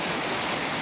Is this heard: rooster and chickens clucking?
no